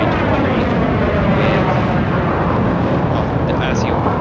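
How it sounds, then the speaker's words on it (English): An F-14 fighter jet taking off on a runway at an air show, a loud, steady roaring rush of jet engine noise throughout, with a person talking over it. "we finally get to see the Invasion F-14 finally taking off on its classic runway"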